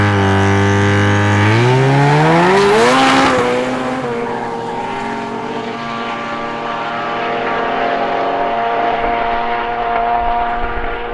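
Modified muscle cars drag racing down an airstrip at Cootamundra, one engine roaring loudly as its pitch climbs through the gears, then holding a sustained, slowly fading drone.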